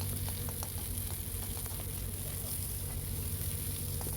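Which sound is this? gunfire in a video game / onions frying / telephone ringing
onions frying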